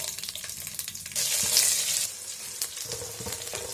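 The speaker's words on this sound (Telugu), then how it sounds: "ఇలా బాగా వేయించుకోవాలి." Curry leaves drop into hot oil already holding cumin and other tempering spices, setting off a sudden loud hiss of sizzling. The burst then settles into lighter crackling and occasional utensil taps nearby.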